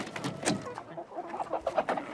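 Chickens cluck in faint, irregular bursts of short clucks and chatter that are fairly soft and unhurried.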